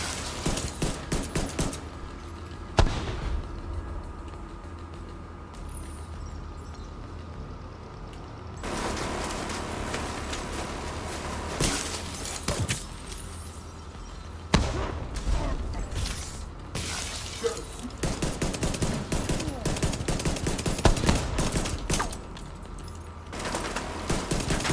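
Pistol gunfire in a video game with a hybrid pistol skill build, sharp shots cracking in bursts across a busy, continuous mix of game sounds and mechanical clatter.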